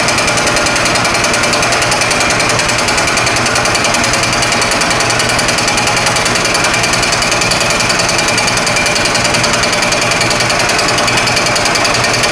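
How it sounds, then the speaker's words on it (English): Cast brake rotor being milled with a homemade fly cutter, a loud, steady, rapid hammering chatter with a high metallic whine running unbroken throughout, no voices. "My fly cutter, my homemade fly cutter is working well."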